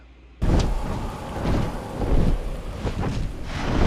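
A loud thunderstorm in a fantasy drama finale, with heavy rain and wind roaring steadily and rumbling thunder swells rising and falling throughout, no voices.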